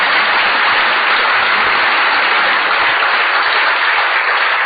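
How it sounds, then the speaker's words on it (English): An audience at Herne Hill Velodrome applauds cyclist Ethan Hayter during Rouleur Live, a loud, dense, unbroken roar of clapping that stays level throughout and blurs into a hiss much like heavy rain. "I think for that alone you deserve a round of applause"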